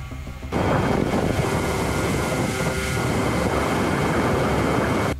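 A DIY TB001 twin-tail drone climbing at full throttle, its loud continuous engine roar starting abruptly and holding steady, close to the microphone with heavy wind rush.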